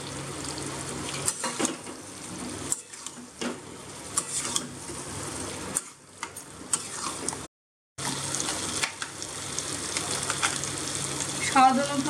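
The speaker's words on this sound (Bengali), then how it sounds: "এর মধ্যে ভাজা আলু আর ডিমটা দিয়ে দেবো।" Fried potatoes and egg sizzle in a well-cooked masala as they are stirred, a continuous close frying hiss with scraping stirs and a brief gap, soft voices faintly underneath.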